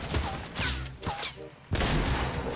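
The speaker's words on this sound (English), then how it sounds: "Somebody's shooting with a burst from north." A burst of gunfire in the Fortnite video game, with quick shots cracking in clusters, dropping briefly to near silence and then rattling again loudly near the end, over faint game sounds.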